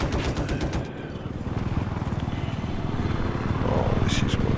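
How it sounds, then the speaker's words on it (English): Enemy machine gun fire in Battlefield 4 during a helicopter battle, rapid bursts of rattling shots opening the clip, then a dense chopping drone with more gunfire rising toward the end, loud and close. "There's an enemy machine gun."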